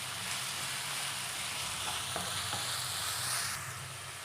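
Vegetables for a vegetable sagu are stirred and sautéed in oil with coriander leaves and mint, a low continuous sizzle with a few faint scrapes of the spoon against the pan.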